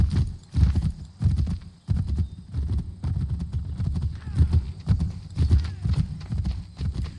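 Hooves pound in a fast, steady galloping rhythm, close and loud, with a low rumble underneath and no one speaking, from a horse in Assassin's Creed III.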